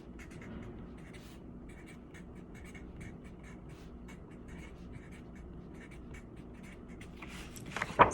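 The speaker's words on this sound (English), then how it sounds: "So I'm going to write that in my story map" Pen or marker writing on a story map, faint repeated scratchy strokes in short bursts over quiet room tone, ending with a brief louder rustle.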